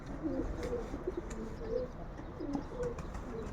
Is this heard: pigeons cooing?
yes